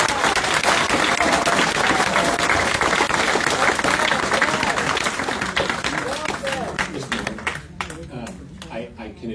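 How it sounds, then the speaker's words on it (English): Applause at a city council meeting, a dense crowd of clapping hands that carries on steadily for several seconds and then thins into scattered claps as it dies away. "Should we hold all applause?"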